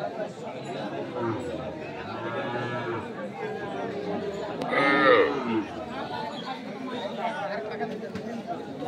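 Cattle, including bulls and heifer calves, at a busy rural livestock market in Dinajpur, with low animal calls mixed into a constant crowd murmur and overlapping bargaining voices.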